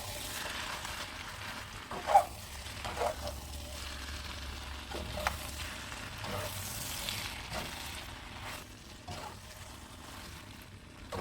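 Spaghetti stir-fried with tom yum seasoning sizzles steadily in a pan, a continuous close frying hiss broken by occasional scrapes and clinks from stirring.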